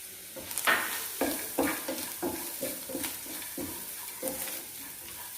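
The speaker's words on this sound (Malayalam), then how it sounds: "ഇനി നമുക്ക് കുറച്ച് ഈ തേങ്ങ ഇട്ട് കൊടുക്കാം" Grated coconut stirred and frying in a pan, with repeated scraping strokes of a spoon through a steady soft sizzle, close and fairly quiet, no voices.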